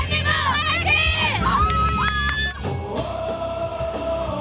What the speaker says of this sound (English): Cheers ring out from the Red Devils Team Korea supporters across Gwanghwamun